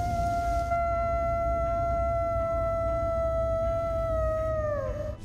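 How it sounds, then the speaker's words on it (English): A long, steady howl holds one sustained tone for several seconds, then bends downward at the end, loud and close over a low rumbling background; it is attributed to the Michigan Dogman in the northern Michigan woods after dark. "Park rangers across northern Michigan report low, guttural howls after dark that match no known species."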